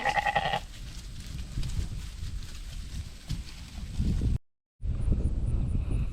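Ewes in a pasture bleat a few times against steady wind buffeting the microphone, the calls short and somewhat distant, followed by a brief dropout.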